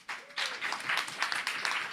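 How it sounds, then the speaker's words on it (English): Applause rises at an Indigenous peacebuilding summit, starting sparse and filling into uneven, moderately faint clapping from a modest audience, with no voices over it. "we need to give them a round of applause"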